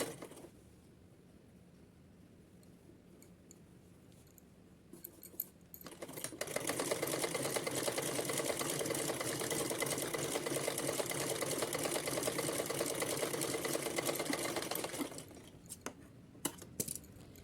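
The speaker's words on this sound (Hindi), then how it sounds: "मोड़ने के बाद अब पूरे पे सिलाई लगा लेते हैं।" A sewing machine stitching along a folded hem of a small dress for a Kanha deity idol, starting after a few quiet seconds and then running as a steady fast rattling whir for about nine seconds before stopping.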